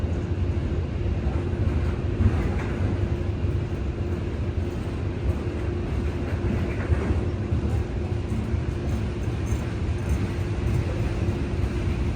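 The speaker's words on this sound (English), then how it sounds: "Those front 2 engines are at notch 8," Freight train locomotives passing an overlook near Cassandra with their front two engines at notch 8, a loud, continuous diesel roar and rumble that holds steady without a break.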